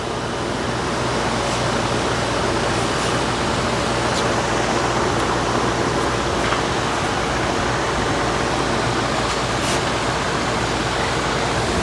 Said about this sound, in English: Sorry about the fan, it's hot as balls in here.